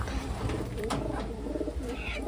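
A female Taiwan pigeon gives low, soft coos, close by, amid a busy, noisy background.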